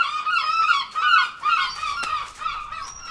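Seagulls squawk and shriek while fighting near a camper van, a close, loud tangle of overlapping harsh honking calls in rapid bursts, with no talking.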